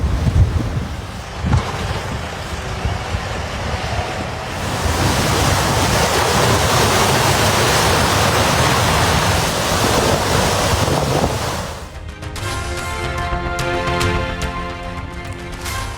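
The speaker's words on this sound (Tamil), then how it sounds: "எரின் புயல் நெருங்குவதால் அமெரிக்காவின் பாஸ்டன் நகரில் கடல் சீற்றம்." Rough sea surf pounds the Boston shore as Storm Erin approaches, a continuous heavy roar of breaking waves with strong wind buffeting the microphone, shifting to a thinner, more tonal mix near the end.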